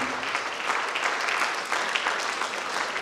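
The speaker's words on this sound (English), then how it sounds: "Let us just stand and clap." A standing audience claps for the teacher at a Grade R graduation ceremony at a Christian school, a dense, steady patter of many hands lasting throughout without pause.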